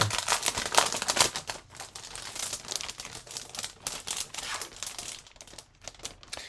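Sheets of pearl art paper being handled at close range give a stream of crisp crinkles, rustles and soft slaps that come in uneven bursts, loudest early on and thinning toward the end.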